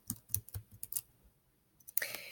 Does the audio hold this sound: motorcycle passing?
no